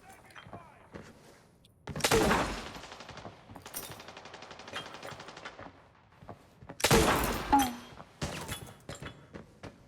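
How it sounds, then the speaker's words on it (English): Gunfire and stun grenade blasts in the Arena Breakout video game: two heavy bursts of loud shots and detonations with rapid follow-up fire between them, close and sharp. "I quickly jump peeked and tossed in a few stun grenades to pinpoint their locations."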